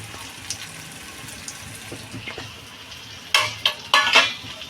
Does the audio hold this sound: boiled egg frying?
yes